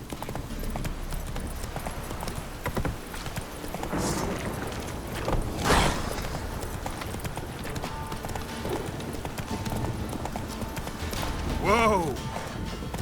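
Hooves of Roach, the horse in The Witcher 3, clip-clop in a steady galloping rhythm throughout, loud and close, with game music and effects underneath and a brief whinny near the end.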